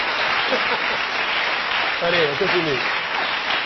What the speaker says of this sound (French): Vous pouvez rire avec elle et l'applaudir